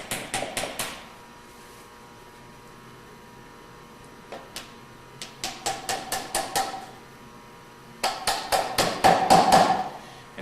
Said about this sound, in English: start nailing it in.